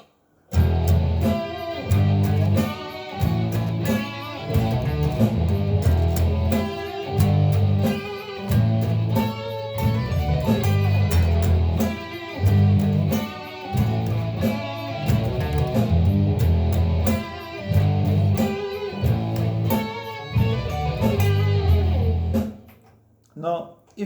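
Electric guitar plays the red guitar parts as a continuous run of loud, chugging power chords with a steady rhythm, close and alone for about twenty seconds before stopping abruptly.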